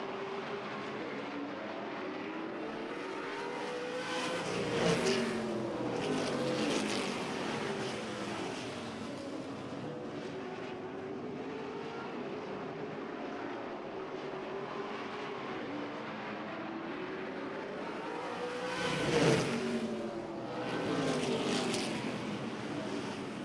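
Race cars lapping a dirt oval track at a pre-feature warm-up with heat going into the tires, engine drones rising and falling as cars pass by at a distance, with two louder passes nearer by.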